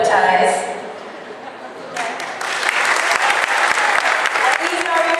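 An audience at the Red Ribbon Runway 2014 fashion show applauds the garment design judges. A voice speaks first, then clapping swells in and settles into loud, sustained applause.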